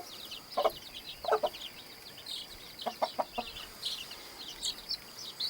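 Hens and chicks cluck and peep in short scattered bursts at moderate distance as they peck at and chase ants, a soft high chirping running throughout.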